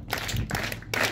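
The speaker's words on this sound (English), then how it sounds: "Let us clap for him," Audience clapping at an honorary doctorate ceremony in Rongai, Kenya, heard as a short burst of close hand claps with crowd noise, the clapping swelling again near the end.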